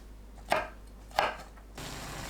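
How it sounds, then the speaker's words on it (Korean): Two crisp knife chops through garlic scapes on a cutting board, spaced about half a second apart, then a soft steady hiss of background noise. "4cm 길이로 썰어주세요"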